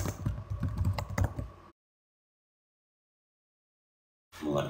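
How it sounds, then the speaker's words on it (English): Quick clicking keystrokes as a web address is typed on a computer keyboard, close and clear for under two seconds, then silence, with another brief burst of typing at the end. "I type the address as usual"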